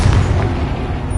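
A Confringo spell explosion in a video game lands as a single deep, loud boom with a rumbling, low-heavy burst.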